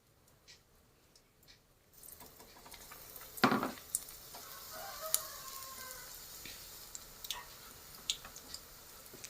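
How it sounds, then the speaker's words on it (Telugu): Bajji fritters frying in hot oil, a faint bubbling sizzle that starts after a quiet moment, with scattered soft pops and a brief louder splash near the start. "ఇలా బజ్జీలు అయితే ఆయిల్లో వేసేసుకుంటున్నాను"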